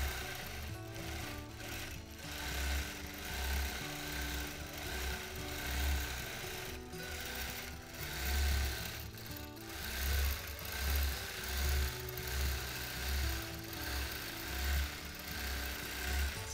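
A longarm quilting machine stitches a freehand edge-to-edge design, giving a steady, continuous mechanical hum with a pulsing rhythmic drone close by, heard alone with no voices.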